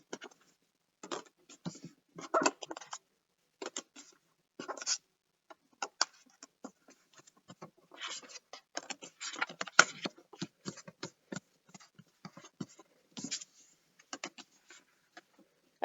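Tarot cards are flipped over one after another on a table, making a quiet run of soft, irregular taps and slaps with short pauses between them and no voices.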